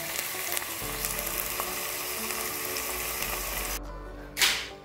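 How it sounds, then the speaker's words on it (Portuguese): Onion and meat fry in a pan for a home-cooked soup, a steady close crackling sizzle that runs throughout, ending with a sudden brief louder hiss burst after a short dip. "Eu vou refogar a cebola, vou refogar aquela carne ali."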